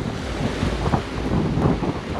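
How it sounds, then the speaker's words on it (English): Gusty wind buffets the microphone over the rolling wash of waves on the bay at Albany Bulb, a dense, rumbling roar with no voices. "It's a pretty windy day."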